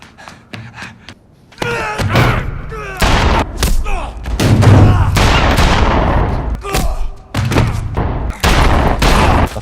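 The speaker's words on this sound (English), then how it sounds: "a fellow policeman fired at him, forcing him to hide" Movie shootout in a parking lot, with loud close gunshots in rapid bursts and scattered single cracks over a rumbling action soundtrack, with no clear talk.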